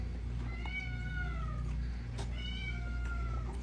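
A foster cat recovering from surgery gives two drawn-out meows, close and fairly soft, over a low steady hum.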